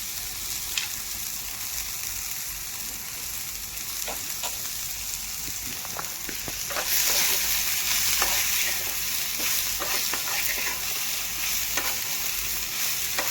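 Soybean bhaji sizzles steadily in plenty of hot oil while a spoon stirs and presses it, scraping clicks scattered through a continuous close frying hiss that swells louder partway through.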